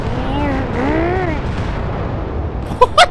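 A planet-destroying explosion weapon fires in a video game, a sustained roaring blast with sweeping, wavering tones, ending in two sharp, loud bursts.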